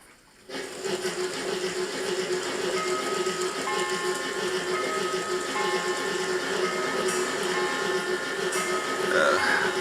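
An N gauge model train, a Dapol GWR Hall Class locomotive pulling Great Western coaches, runs along its track with a steady mechanical whirring hum and faint rattling clicks, continuous and close.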